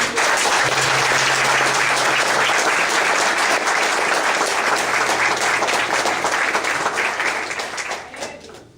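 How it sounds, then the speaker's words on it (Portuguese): A church congregation claps loudly and steadily, a dense wash of applause that holds for several seconds before tapering off at the end. "Você pode aplaudir por isso?"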